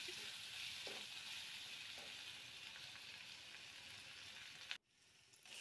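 Grated garlic and ginger stir-frying in a hot pan give a steady, close sizzle with a few soft stirring scrapes, then the sound cuts off sharply near the end.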